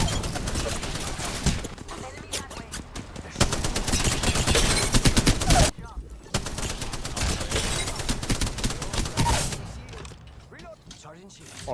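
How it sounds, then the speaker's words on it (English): Dense bursts of rapid gunfire and explosive shots fill the scene, loud and close, with brief lulls between volleys amid busy game sound effects. "Already the audio on gunfire, much better."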